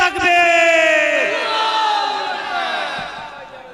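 A crowd at a devotional poetry competition prize ceremony roars a Takbir chant in response, many voices rising together in a loud sustained shout that slowly fades, with a lone voice near the end.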